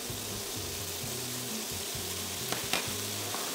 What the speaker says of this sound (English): Fry the meat till it's no longer pink. Then add in the garlic